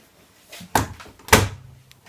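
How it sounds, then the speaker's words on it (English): Two quick thuds from shutting the front-loading door of a Samsung Eco Bubble WW10H9600EW washing machine, a softer bump followed by a firmer latching clunk, close and clear with no speech. "And close the door."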